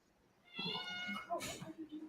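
A single drawn-out cat meow, faint and fairly close, followed by a short sharp vocal burst and some low background murmur.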